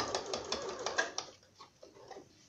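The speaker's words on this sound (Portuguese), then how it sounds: "eu vou fazer a costura até o fim" A sewing machine running a seam with a quick run of close, rhythmic mechanical ticks that slows and fades to sparse clicks within a couple of seconds.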